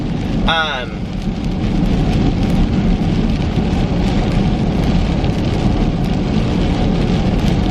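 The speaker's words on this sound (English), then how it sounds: "it's raining again. Can you believe it?" Steady rain pours continuously with a dense hiss and patter, and a brief chirping sound rises near the start.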